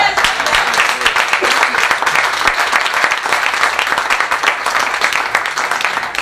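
Church congregation applauding, a dense, steady wash of clapping hands filling the space throughout, loud and close, with voices mixed in beneath the applause.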